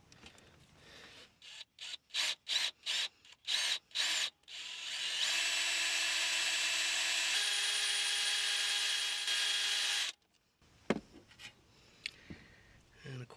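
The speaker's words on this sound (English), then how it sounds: "Just a matter of whether or not I can get the drill in there to do what I need it to do." A power drill whirs in several short bursts while working on a 2010s Subaru Outback battery cable, then runs in one long steady whine for about five seconds before stopping, followed by light clatter.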